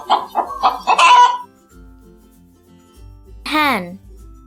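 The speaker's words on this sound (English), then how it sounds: "Hen," A hen gives one short, close cluck after a few moments of a person speaking.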